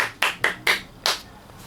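A short, dry burst of about five hand claps in quick, slightly uneven rhythm, close and clear, used as a sound effect.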